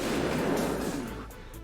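Grenade launcher fired at a helmet in a video game, a dull muffled blast with a rumbling low body that decays over about a second, fairly faint overall.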